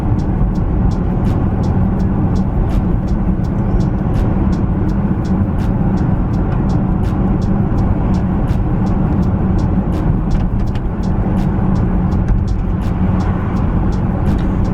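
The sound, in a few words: Audi Q7 4.2 V8 TDI car driving slowly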